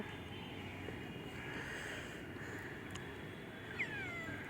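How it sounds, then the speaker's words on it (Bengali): A cat meows faintly once near the end over a steady hiss of background noise, otherwise quiet with no talking. "মিয়াও খালি মিয়াও"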